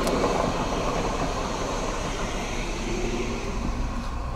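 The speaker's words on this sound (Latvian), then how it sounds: "Tramvajs vai vilciens?" A train rumbles past nearby in Switzerland with a steady, dense roar of wheels on track, constant and fairly loud for several seconds.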